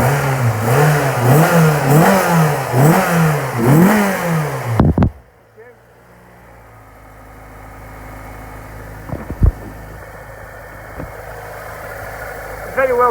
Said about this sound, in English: Give it a little rev for me, Andy.